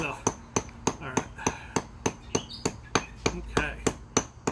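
A tooth hammer strikes a stone chisel in steady, evenly spaced blows while stone is carved. About a dozen sharp, ringing clicks sound close and clear over a quiet room.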